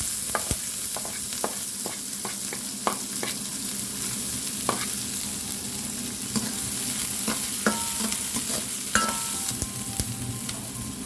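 Onion sizzling steadily in oil in a frying pan while being stirred, with frequent sharp scrapes and clicks of a utensil against the pan, close and continuous, no talking.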